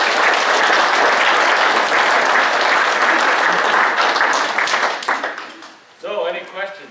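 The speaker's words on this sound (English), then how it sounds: "Let's give him a round of applause for his service." A retirement is honoured with a sustained round of audience applause at a talk on Colorado's water issues: dense, loud clapping that fades out near the end, followed by a brief voice.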